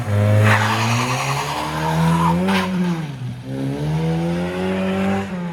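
A Toyota Echo with a lift kit rolls over a small curb, its engine droning steadily with rising and falling revs and a brief scrubbing tire noise, close and loud throughout.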